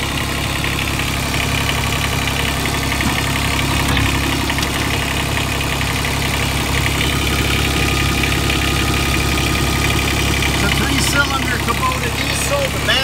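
A Kubota diesel engine idles on a Bobcat 418 mini excavator with a steady, loud, close mechanical drone and low vibration that stays even throughout, with no talking.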